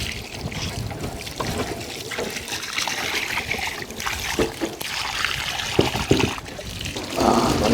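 Water splashes and trickles steadily while a big fish is washed clean outdoors before being fried in banana leaf, a continuous close wash of pouring and sloshing with no talk.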